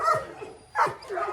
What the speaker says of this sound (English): She's a pure Sorrels dog.